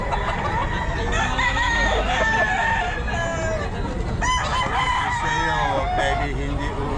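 At a busy pet market, a white Kelso bull stag rooster crows loudly among other crowing and clucking fowl, several overlapping calls rising and falling against constant background noise.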